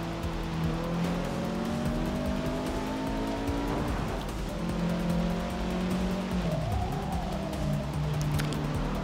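In the Forza 6 video game, a race car engine revs up and down through the gears, its pitch climbing and falling, and tires squeal in the corners. The sound is steady and close, with no talking.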